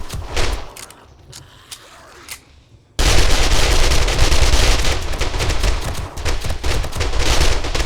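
Rapid automatic gunfire in a shooter video game, aimed at a large boss creature near a defensive moat; after a few scattered shots, a dense, loud, continuous barrage of bursts follows.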